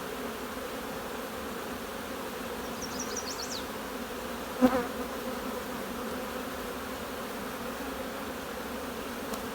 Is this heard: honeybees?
yes